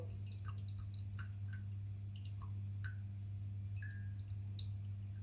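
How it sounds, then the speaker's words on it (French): Brown veal stock drains through a chinois strainer, giving sparse faint drips and small liquid ticks scattered over a steady low hum, quiet and close, with no talking. "Maintenant, on va passer tout ça au chinois."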